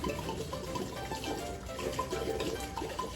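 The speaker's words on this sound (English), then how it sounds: "I take off the cork and then I pour in the entire bottle" Bourbon, 100 proof, glugging steadily from an uncorked bottle into a jar of figs for infusing, a continuous close liquid pour with no talking.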